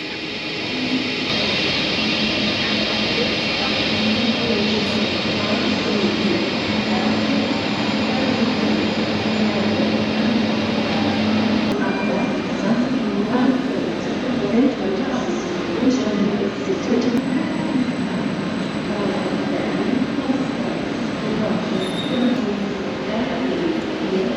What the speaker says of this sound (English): That's the overnight train to Zurich.